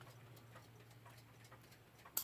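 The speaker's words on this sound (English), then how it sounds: "which produces a ticking noise." A Metamec mantel clock movement, partly disassembled, ticks faintly and evenly, a soft regular series of light clicks over a low background hum, ending with one sharper knock.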